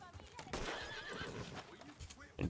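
A horse in Red Dead Redemption 2 gives a brief whinny, with hoof clops and movement sounds around it, fairly quiet with speech mixed in.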